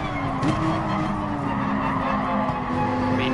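A race car in GT Sport slides wide, and its tires squeal in a long, steady screech over the constant hum of the engine, with no voice over it.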